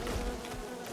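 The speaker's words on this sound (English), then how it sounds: "Ow. Bees." Bees buzz in the Len's Island video game, a brief, moderately faint droning hum lasting under a second.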